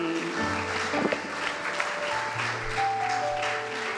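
A church congregation at an Easter service cheers and claps in a sustained, roomy wash of applause, with music and a voice faintly carrying over the crowd.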